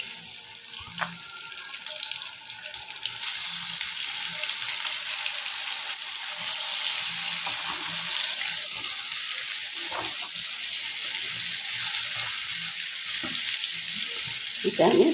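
Home-grown eggplant pieces and a tomato sizzle in hot oil in a wok, a dense, steady hiss that swells louder after a few seconds and continues evenly, with faint clinks and stirring underneath.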